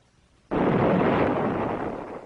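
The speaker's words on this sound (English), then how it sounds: "As the tank explodes, the copper tubing and control lines are ripped up into the air with the tank." A water heater tank bursts from superheated steam pressure, tearing loose its copper tubing and control lines: a sudden loud blast after a half-second of quiet, then a sustained roaring rush of escaping steam and debris.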